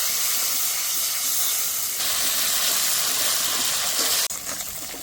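Spice paste with salt and turmeric fries for a katla fish curry with mustard and poppy seed, giving a loud, steady, hissing sizzle that shifts twice as the pan is worked, with no voice.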